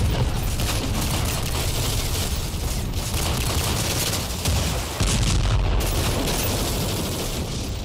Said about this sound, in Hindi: हमने मिलिटेंट्स के कैंप पर हैवी फायरिंग की।